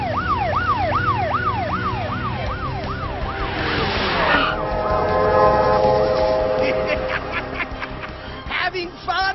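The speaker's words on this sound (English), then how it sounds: "Sound the siren, Marshall." A GeoTrax toy emergency vehicle's siren wails in rising and falling sweeps up close, followed by a brighter electronic tone and jingle, with voices speaking over parts of it.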